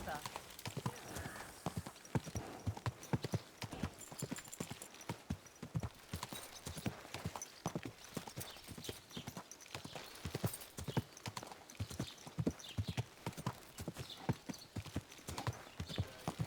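Steady clip-clop of horse hooves walking at an even pace throughout, with voices speaking over them, in the video game Kingdom Come: Deliverance II.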